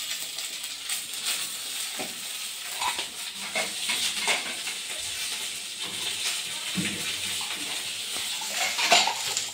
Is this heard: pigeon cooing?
no